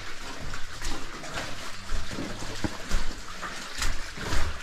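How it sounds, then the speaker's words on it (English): Water and gooey runoff pouring down a waterfall inside an abandoned sulphur mine: an uneven, splashing broadband wash with surging pulses, moderately loud and close, with no voices. "Whole waterfall of gooey gunk."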